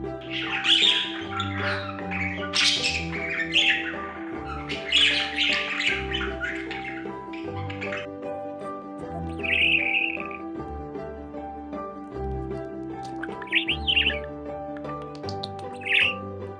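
A budgerigar squawks and chirps in repeated bright, harsh bursts, fairly loud and close, with a steady tonal hum running beneath and no talking.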